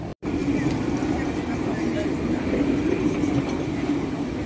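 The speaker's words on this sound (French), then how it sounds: "le tramway T1, il est bien plein" A crowded T1 tram rumbles past near Place Masséna in Nice, a continuous low mechanical roar with city noise and a voice talking over it.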